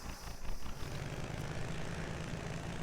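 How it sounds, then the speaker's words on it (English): A vehicle engine loop in an Unreal Engine 4 game drones steadily, a broad, constant rumbling roar with a low hum, fairly quiet and unbroken throughout. "we'll go to our engine sound and reselect our engine loop queue"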